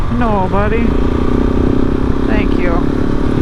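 A KTM 690 SMC R single-cylinder supermoto hums steadily as it is ridden along a twisty road, a loud continuous engine drone under wind noise, with a rider talking over it.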